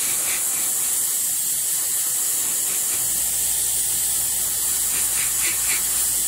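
An airbrush sprays AK Real Colors paint in a steady, unbroken hiss that holds at even loudness throughout, with no spattering or sputter.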